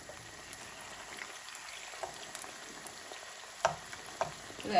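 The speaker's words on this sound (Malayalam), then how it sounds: "അപ്പോൾ അതൊക്കെ നമുക്ക് ഒന്ന് വറുത്തെടുക്കാം" Gram flour and egg batter fritters frying in hot oil, giving a faint, steady crackle with a few soft clicks near the end, and no voices.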